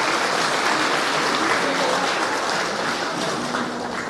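Applause from an audience at a panel forum of economics professionals in Latin America, a steady dense wash of many hands clapping close and loud throughout, easing slightly toward the end.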